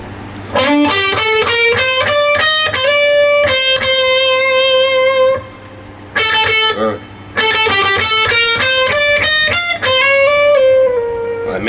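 Electric guitar with the gain turned up plays phrases from a song's solo: clear sustained notes with slides and bends, loud and close, broken by a short pause.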